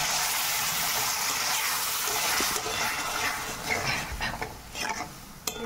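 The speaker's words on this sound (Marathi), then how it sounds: "हे सगळं व्यवस्थित मिक्स करून घ्यायचंय." A spoon stirs a grated boiled egg masala of mustard seeds, turmeric, red chilli, salt and water in a pan, giving a soft continuous scraping with light sizzling that gets patchier toward the end.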